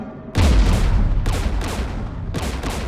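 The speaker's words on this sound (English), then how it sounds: "We're taking fire." Heavy weapons fire in the Mass Effect 3 video game lands in loud, booming bursts, a strong hit followed by rapid repeated shots that come in waves, close and dense, with no voices over it.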